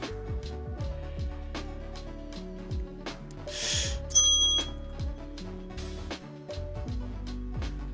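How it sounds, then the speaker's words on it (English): A small hand bell rings with a few bright metallic dings around the middle, set against continuous music with steady beats and melodic notes from a retro handheld game. "I got a bell"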